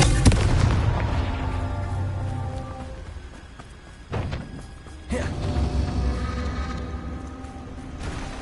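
Fiery spell blasts from the Confringo curse in Hogwarts Legacy, a loud crackling burst at the start and two more sharp bangs a few seconds apart, each trailing into a rumbling, rain-like hiss.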